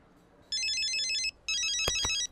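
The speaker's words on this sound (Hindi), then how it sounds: "अरे मैडम का कॉल।" An incoming-call phone ringtone plays two bursts of a bright, repeating electronic melody, close and fairly loud against a quiet background, with a couple of brief sharp knocks during the second burst.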